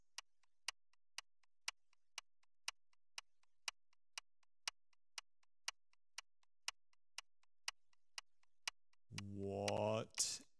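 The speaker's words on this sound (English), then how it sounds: "That ticking noise." Steady clock ticking, evenly spaced sharp ticks about twice per second in a quiet room, followed at the end by a voice.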